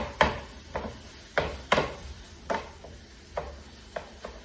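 Ground hamburger meat and onion browning in a pan, with repeated scraping and stirring strokes of a utensil at irregular intervals over a soft sizzle, close and moderately loud.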